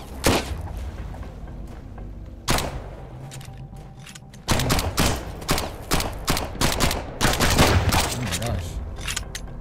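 Rapid bursts of gunfire in the survival video game Sunkenland, loud, repeated volleys with sharp onsets and a brief lull between, while a man exclaims over the shots.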